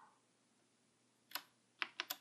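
Keys pressed on an Apple IIe computer keyboard in a quiet room: one sharp clack, a short pause, then three quick firm strokes in a row, close and clear over faint background hiss.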